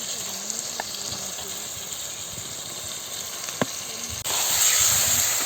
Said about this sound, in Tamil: இப்போது நம்ம சுத்தம் பண்ணி வச்சுருக்க கனவா மீனை இதில் சேர்த்துக்கலாம்.